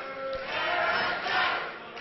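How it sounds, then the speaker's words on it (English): A wild crowd at a live wrestling show roars and cheers, a loud, continuous swell of many voices rising and falling with a few shouts standing out. "And this crowd is just wild tonight."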